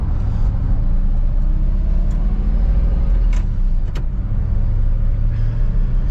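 A 1959 Chevrolet Bel Air drives along with a steady, loud low rumble of engine and road noise heard from inside the car, with a few faint clicks and no talking.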